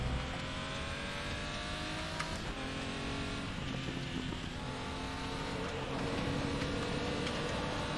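A race car engine in a racing video game, a sustained droning whine that climbs in pitch as the car accelerates out of a corner, steady and fairly loud with no talking.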